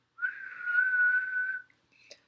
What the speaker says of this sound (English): When Buzz blows his whistle